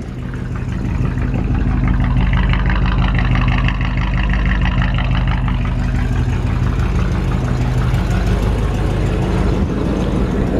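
A 1955 Chevrolet Bel Air with a freshly rebuilt engine and dual exhaust idles steadily up close, a deep, even rumble that holds throughout with no voices.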